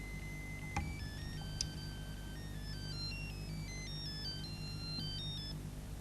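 A mobile phone ringtone plays a stepped electronic melody of clear tones during a lecture session on science and spirituality, steady and moderately loud over a constant room hum, with no talking.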